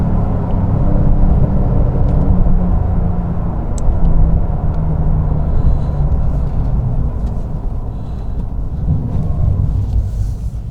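A 2023 Porsche 911 Sport Classic with rev matching, its engine droning loud and steady from inside the car as it pulls through the gears, a continuous low rumble with slight swells.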